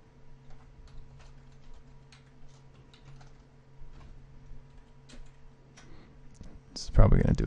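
Computer keyboard typing during CCNA network configuration work, with steady rapid key clicks running throughout at moderate closeness, a faint electronic hum beneath, and a louder burst of noise at the very end.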